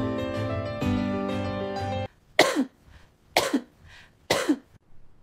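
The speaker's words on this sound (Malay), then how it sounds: "Dari minggu lepas aku dah batuk macam ni" Three separate coughs from one person, close and fairly loud, evenly spaced after a short burst of tonal music, with quiet gaps between each harsh burst and no talking.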